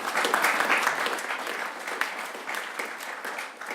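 Seminar audience applauding at a 2016 ISCEx seminar, a steady wash of many hands clapping at moderate level, sustained for several seconds and fading slightly at the end, with no talk over it.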